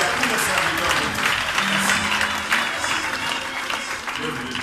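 Guests applaud at a church wedding ceremony, steady dense clapping filling the space throughout, with voices murmuring underneath.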